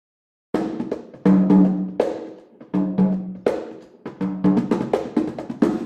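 A drum set plays in a jazz setting, with a sequence of struck hits that each decay quickly and a rhythm that grows busier toward the end, heard clearly with no talking.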